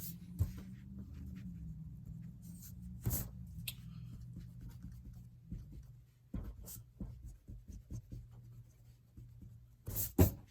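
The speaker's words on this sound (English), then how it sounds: "Just to erase some of these construction lines so that it pops out a little bit better." A pencil eraser rubs out construction lines on a perspective drawing of a building, soft scratchy strokes coming in short bursts close by against a faint steady hum.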